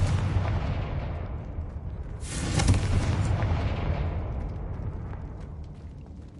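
A Confringo fire spell exploding in a video game, a single deep boom that swells and rolls away over a low rumbling background, with no voices.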